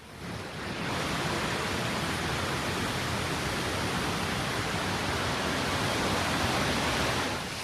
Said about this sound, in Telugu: చూసారా ఫ్రెండ్స్, మన ఎదురుగానే బొగతా వాటర్ ఫాల్స్ అందాలు